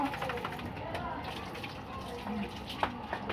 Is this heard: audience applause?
no